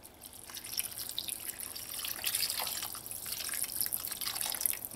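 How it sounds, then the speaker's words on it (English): Water poured into a pan of softened tomatoes and onions while they cook, giving a quiet, close trickling and sizzling with light splashes and no talking. "So I'm going to add some water to help this along."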